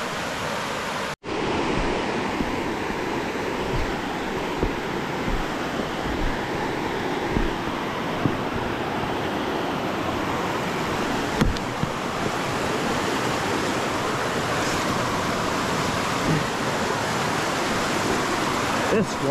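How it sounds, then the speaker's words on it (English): A roadside creek flows with a steady, full rush of water that runs unbroken and close throughout, with light wind mixed in. "Got a nice little creek view."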